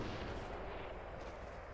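Gunfire in the game Fortnite booms as a dense, continuous rumble of distant-sounding shots and impacts, with no talk.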